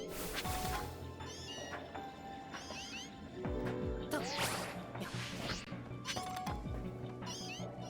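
Cats meowing in a video game, several short rising and falling meows over a busy backdrop of music and hits, fairly loud and repeated throughout.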